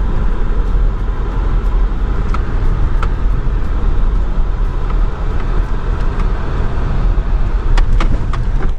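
A safari truck drives through Kruger Park, its engine and road rumble steady and loud throughout, with faint rattles on top and no talking.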